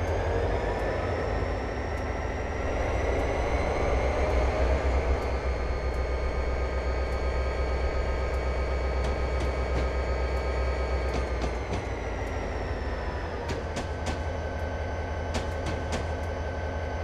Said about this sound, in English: Park the engine at the engine shed.